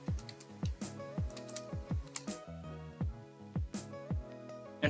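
Quick bursts of keystrokes on a computer keyboard as a web address is entered in a browser, crisp close clicks in uneven clusters with short pauses between them, no talking.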